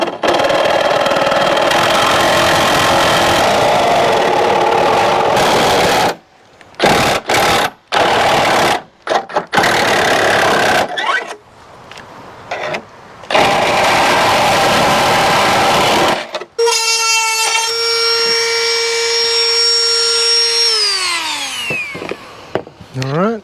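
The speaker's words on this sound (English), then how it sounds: "I'm just going to take the Sawzall, and we're going to use the Sawzall a little bit more" A Sawzall reciprocating saw cuts during a snorkel install on a Jeep Gladiator, loud in rough, repeated bursts with short gaps, then a tonal motor whine winding down. Some talk is mixed in.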